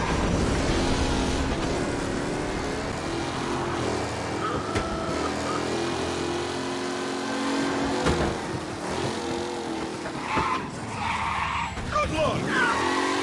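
A race car in Mafia Definitive Edition roars and skids on the road, engine revving under steady tire screech, loud and continuous, with voices talking over it.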